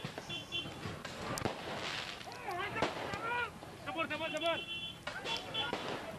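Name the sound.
firecrackers thrown at police during student protest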